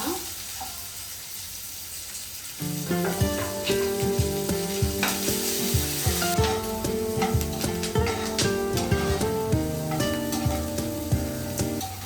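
Ginger, garlic, chilli and onion frying in a pan make a soft sizzle with occasional stirring under background music that enters after a few seconds.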